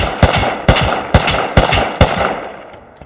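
Gunfire in the survival video game Rust, five or six sharp, loud shots in a quick rhythmic burst, each with a short echoing tail, then fading out.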